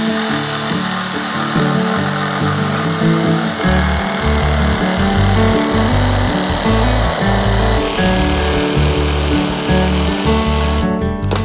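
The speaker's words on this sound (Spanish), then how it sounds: "Sierra de calar, hoja para cortes rectos, gran progresión de corte" A jigsaw with a straight-cut blade saws through wood along a marked line, its motor buzzing loudly and continuously while the blade chatters in a rapid rhythm, close and alone.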